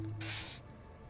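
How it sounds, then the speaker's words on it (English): A short, bright burst of spray hisses for about half a second as an odd-smelling spray is doused onto an armpit in Disco Elysium, over a low hum, then fades to quiet. "He douses you with the odd-smelling spray, a double helping as you present your other armpit"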